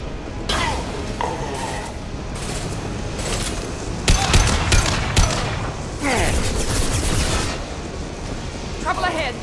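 Rapid gunfire in a Mass Effect 2 firefight aimed at a loose fuel tank: dense, loud bursts and sharp cracks come in clusters, with impacts layered over constant battle noise.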